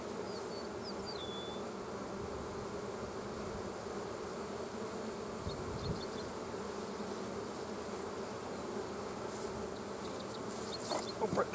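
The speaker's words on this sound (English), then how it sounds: "Real good bees." Honey bees buzz steadily around a hive, a dense, continuous drone of many wings close by, with a few faint chirps early on and a brief sharp bump at the very end.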